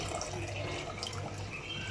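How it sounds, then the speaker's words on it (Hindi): Water poured into a pot of phalsa berries for chutney, a soft steady splashing and trickle, faint and close, with no talk. "सो मैं इतना पानी ऐड करूँगी कि ये जो है इसमें डूब जाए।"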